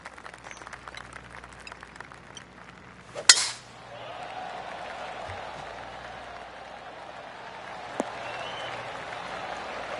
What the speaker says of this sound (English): Oh, golf clap. That's a beauty.